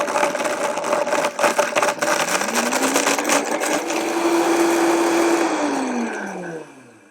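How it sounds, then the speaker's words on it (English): A kitchen blender grinding dry bread into fine breadcrumbs, its motor whine rising in pitch as the speed ramps from low to high, holding steady, then winding down and stopping near the end; loud and close, with no talk. "I'm going to start the blender on low and gradually increase it to high."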